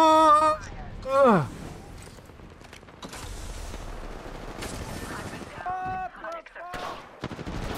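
Gunfire in the Apex Legends video game, several sharp shots and mechanical weapon clanks spread across the moment, mixed with tonal game effects and pings, over a busy in-game soundscape.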